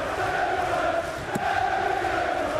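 A large darts-night arena crowd keeps up a steady, dense roar of cheering and chatter, continuous and fairly loud throughout with one brief sharp knock partway through.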